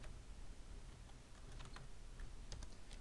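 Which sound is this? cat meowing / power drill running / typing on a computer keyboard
typing on a computer keyboard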